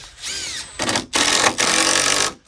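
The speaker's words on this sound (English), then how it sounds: "I'm putting these timber lock screws in now" A power drill drives timber lock screws into timber during a passive house build, whining in several close, loud bursts with short pauses between.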